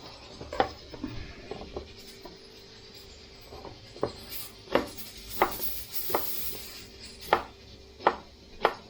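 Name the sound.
chopping fish and ingredients with a knife for cooking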